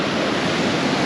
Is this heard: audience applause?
no